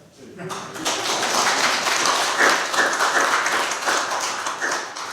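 A church congregation breaks into sustained applause during a Sunday worship service in New Jersey, a dense wash of clapping from many hands filling the room for several seconds, with some talk audible underneath.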